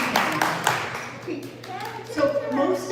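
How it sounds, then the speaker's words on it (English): A small audience claps at a morning pitch event, scattered hand claps with a voice speaking over them. "you can feel free to clap at any time"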